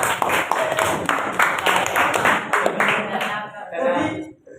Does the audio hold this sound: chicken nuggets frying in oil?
no